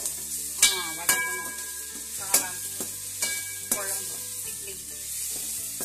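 Onions sauté in a pan for a mushroom gravy, a soft sizzle under sharp, repeated clinks and scrapes of a spoon stirring against the metal, close by.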